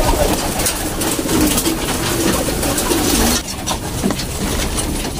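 Pigeons coo repeatedly in a loft while chasing each other, the soft rolling calls close and loud over a constant background hum, with a slight drop in the noise near the end.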